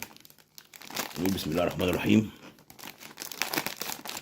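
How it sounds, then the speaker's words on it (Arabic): A plastic snack bag of Lulu Puffs crinkles and tears open in close, busy bursts, with a person talking over the start of the rustling. "نفتح الكيس التاني"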